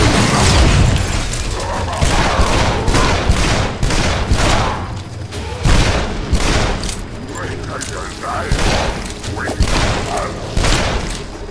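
Rapid bursts of gunfire from the Shadow Warrior video game, with repeated loud shots and booming impacts running throughout, a voice talking over the shooting.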